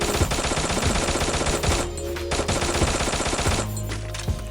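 Dense, rapid gunfire from the video game Free Fire, loud and continuous bursts of shots with brief lulls, set against steady game background noise.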